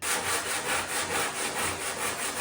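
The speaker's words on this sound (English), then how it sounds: "This is really hard sanding, really hard." Rapid back-and-forth abrasive rasping of hand sanding on a wood furniture finish, steady and close, with an even rhythm of strokes and no talking.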